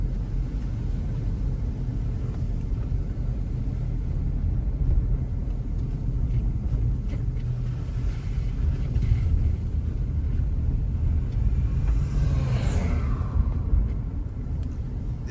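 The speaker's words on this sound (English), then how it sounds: "now we are driving into the Sangster International Airport" A car drives into Sangster International Airport in Montego Bay, Jamaica, ahead of Hurricane Melissa: a steady loud low engine and road rumble from inside the vehicle, with wind noise and a brief rising whine near the end.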